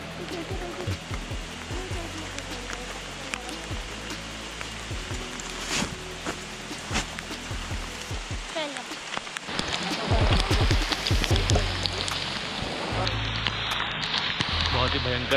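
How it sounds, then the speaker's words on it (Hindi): Heavy monsoon rain on the Dudhsagar Waterfall trek in Goa, a dense, steady hiss that swells louder in the second half, with people talking over it. "फिर से बारिश शुरू हो गई है।"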